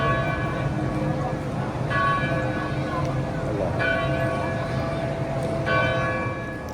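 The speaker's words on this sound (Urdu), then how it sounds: "مولا کے حرم میں جو گھڑیال ہے اس کی آواز" The large clock chime at Imam Ali's shrine rings out in a slow series of resonant bell strikes, each tone lingering and overlapping against a busy background murmur.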